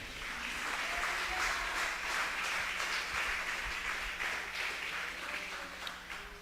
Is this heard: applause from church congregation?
yes